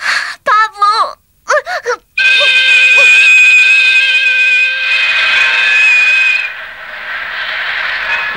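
A train steam whistle blows a loud, sustained, shrill tone with hissing steam for several seconds, rising and then fading, after short wailing cries at the start.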